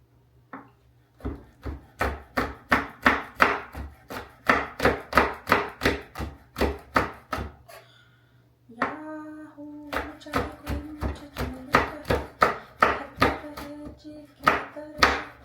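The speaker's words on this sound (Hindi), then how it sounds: "धनिया रह गया था हमारा, धनिया भी कट लें।" A knife chops green and red chilies, then coriander, on a board in a home kitchen: steady rapid thuds in quick bursts, close and loud, pausing briefly midway before resuming with a low hum beneath.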